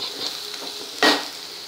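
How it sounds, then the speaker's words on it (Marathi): Okra (bhendi) dropped into hot oil with onion for Maharashtrian bhendichi bhaji, a steady close sizzle with a sharp louder burst of frying about midway as the pieces hit the pan, plus faint scraping. "आता आपण ही भेंडी घालून घेऊया याच्यात."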